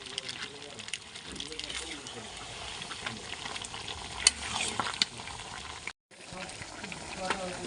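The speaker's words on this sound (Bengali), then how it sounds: "এবার এর মধ্যে দিয়ে দিচ্ছি ভেজে রাখা আলুগুলো আর দিয়ে দিচ্ছি টক দই, দইটা ফেটিয়ে রেখেছিলাম।" Meat sizzling and being stirred in a pan as fried potatoes and beaten sour yogurt go in, a steady frying crackle with scraping stirs and a brief cutout near the end, no talk over it.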